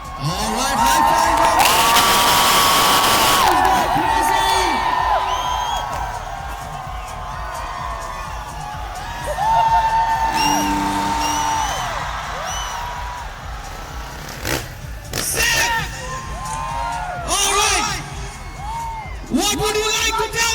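Crowd at a freestyle motocross show in Kochi cheers and whoops, loudest in a burst near the start and then swelling again in waves, while an announcer talks loudly over it through a PA.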